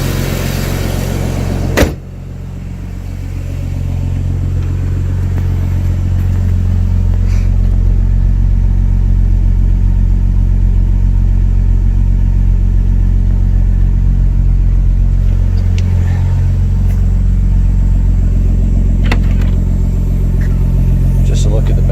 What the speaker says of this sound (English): Yeah, so we'll let it warm up and we'll go for a drive.